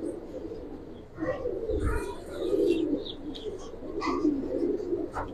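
Giribaz racer pigeons coo nearby in soft, repeated throaty calls, mixed with occasional chirps and light fluttering over a low background hum.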